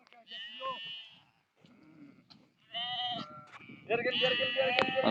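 Sheep bleat repeatedly during a shearing day in the Zidi mountains near Alam, harmonic calls rising in loudness toward the end and mixed with other livestock noise and occasional voices.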